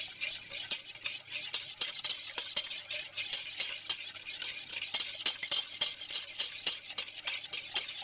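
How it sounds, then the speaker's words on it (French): A whisk beats a sauce in a bowl as olive oil is slowly added, with quick, steady, rhythmic metallic taps and swishes, close and moderately quiet, with no talking. "tu vas la monter à l'huile d'olive"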